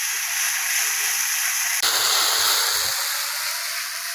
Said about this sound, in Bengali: মশলাটা ভাজা ভাজা হবে।